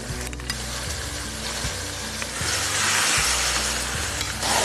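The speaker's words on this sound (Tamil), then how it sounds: "இப்போ நம்ம வந்து மேக்னேட் பண்ணி வச்சுருக்க கறியை நம்ம இதில் சேர்த்துக்குவோம்" Marinated chicken goes into a biryani pot in a rice cooker, setting off a loud, steady sizzle and frying hiss with stirring scrapes, close up and continuous under a low mechanical hum.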